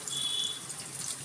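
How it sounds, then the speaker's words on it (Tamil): Water pours into a pan for cooking semolina upma, a soft continuous splashing stream heard alone for just over a second. "நான் வந்து ஒரு 2 டம்ளர் அளவு தண்ணி சேர்த்துக்கிறேன்"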